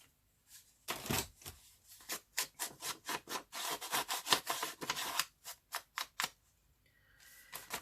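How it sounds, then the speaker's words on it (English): Scissors snip repeatedly through paper while working on an altered book, a quick irregular run of about fifteen crisp, close cuts with brief pauses, and no talking. "works better if you open the scissors, but if you do this at home, be very careful of your fingers"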